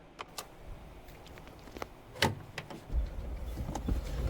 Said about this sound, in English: I like it matches the door opening.